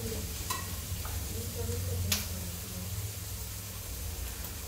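Vegetables fry in oil for vegetable fried rice with a steady close sizzle and hiss, broken by a few faint clicks as they are stirred in the pan.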